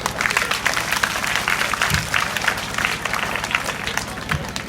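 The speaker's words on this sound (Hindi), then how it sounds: "ताली बजाओ जरा जोरदार" Schoolchildren at an inter college in Azamgarh clap loudly together, a dense and steady burst of applause that runs the whole time, with a couple of faint voices underneath.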